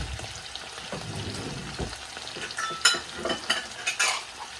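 Potatoes frying in a single home skillet for a burgers-and-fries supper, a steady close sizzle with stirring scrapes and clicks of a utensil against the pan, no talking.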